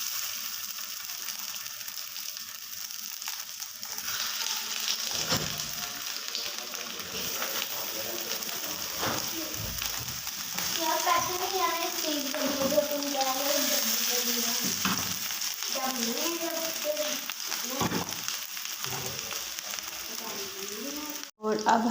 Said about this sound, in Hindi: इधर हमारा ऑयल गर्म हो चुका है और हमने इनको शैलो फ्राई करना है।